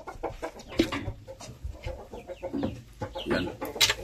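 A breeding hen, a Gohan DBC line fowl on a farm, clucks repeatedly in short irregular bursts at close range, with no talk over it.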